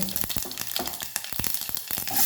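Mustard seeds splutter in about two tablespoons of hot oil, a dense crackling sizzle with rapid popping bursts throughout, close and fairly loud.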